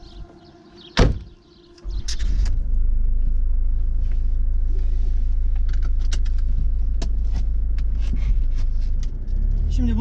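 A Jaguar X-Type 2.0d diesel car sets off: a door clunks, then the engine settles into a steady low rumble that carries on throughout.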